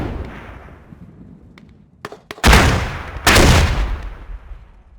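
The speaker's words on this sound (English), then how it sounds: "Grenades, grenades, and more grenades." In a multiplayer battle game, grenades detonate nearby as two heavy booming blasts in quick succession, each decaying into rumble, preceded by a few sharp cracks of gunfire.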